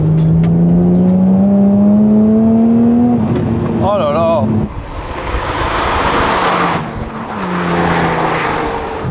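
A Ferrari flat-12 5-litre engine revs loudly up close, its rising tone climbing then dropping into a rough roaring burst, with a person exclaiming over it.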